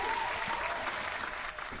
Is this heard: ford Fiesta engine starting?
no